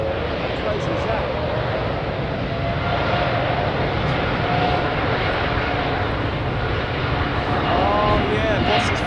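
A government jet in Air Force One style livery departs runway 09 at Munich, a loud steady engine roar filling the whole stretch, with voices talking over it.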